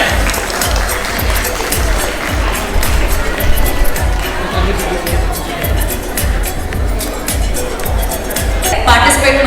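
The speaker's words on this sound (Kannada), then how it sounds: "ಜೋರಾದ ಚಪ್ಪಾಳೆ." Loud, sustained applause fills the room from a large audience at a women's event, dense clapping with crowd noise running steadily throughout without a break.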